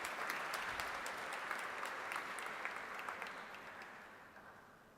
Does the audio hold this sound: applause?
yes